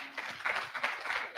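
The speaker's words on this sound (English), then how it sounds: "A round of applause for him, please." Audience applause at a banking business event, steady clapping in a hall with soft crowd murmur, brief and moderately loud.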